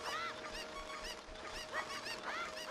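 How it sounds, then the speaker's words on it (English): Chickens attacking in the Nintendo 64 game Ocarina of Time, with repeated harsh squawking and honking calls in quick bursts over a steady background hum, faint overall. "Did you know that the chickens will attack you?"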